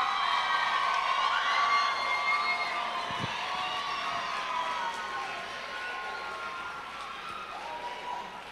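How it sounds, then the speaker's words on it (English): A community talent showcase audience stands and cheers for the performers, a steady wash of crowd cheering, whooping and applause filling the hall throughout without a break. "Stand up and cheer for all of the talent."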